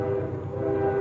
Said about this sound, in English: Train is coming down.